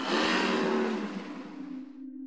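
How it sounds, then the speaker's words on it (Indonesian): A motorcycle engine pulls up close at night outside a café at closing time, a loud mid-pitched roar that eases off and settles into a steady idle hum. "Gak lama, ada suara motor Dika datang."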